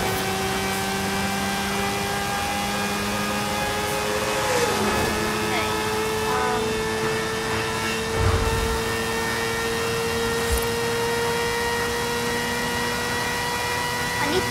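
A car engine in Forza Horizon 5 drones and climbs in pitch as it accelerates hard toward a ramp, loud and steady with a few gear-shift dips and thumps.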